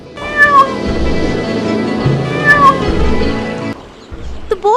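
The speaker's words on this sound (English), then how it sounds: "And the youngest son had the miller's cat." A miller's cat meows repeatedly, with two distinct drawn-out calls and a shorter cry near the end, close and clear over a soft background bed in an animated fairy-tale setting.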